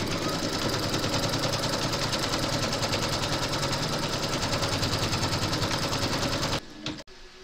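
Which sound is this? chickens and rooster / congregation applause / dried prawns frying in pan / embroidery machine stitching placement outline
embroidery machine stitching placement outline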